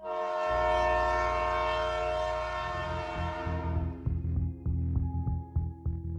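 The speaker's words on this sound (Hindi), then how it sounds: "उसे दूर से ट्रेन के हॉर्न की आवाज सुनाई दी" A train horn blares in a long, loud, steady blast, then gives way to the rhythmic clatter of rail cars passing over the tracks.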